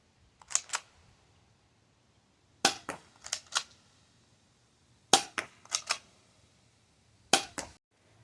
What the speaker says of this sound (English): now we have a backyard airsoft shooting range